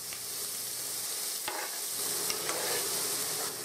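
Onions frying in oil in a pan over medium heat for a chicken stew, a steady close hiss of sizzling with a few faint scrapes from stirring, no voices.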